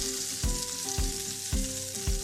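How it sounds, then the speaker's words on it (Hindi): Egg-dipped bread frying in butter in a pan over very low heat, a close, steady sizzle broken by soft regular taps about every half second. "बटर ऐड करेंगे। बिल्कुल लो आंच पे इसको फ्राई करेंगे।"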